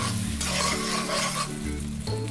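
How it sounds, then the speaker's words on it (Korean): Beaten eggs sizzle in plenty of oil in a pan while making fried rice, a continuous close, loud frying hiss with stirring throughout. "계란을 잘 저어서"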